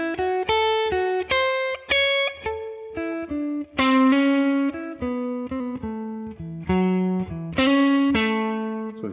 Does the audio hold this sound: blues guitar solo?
yes